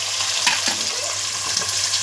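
Chopped onion sizzling and frying in hot oil with shah jeera and other spices for a beef curry, a steady loud hiss with a faint stirring scrape, no voices.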